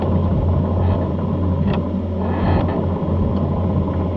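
A loud sprint car engine rumbles steadily at idle up close, a deep lumpy drone with faint mechanical rattles over it.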